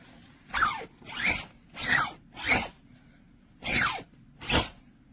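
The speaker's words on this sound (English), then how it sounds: "let's see how the zipper does." A sleeping bag zipper pulled in six quick rasping strokes, each a short bright zip with brief pauses between, close and clear with no talking.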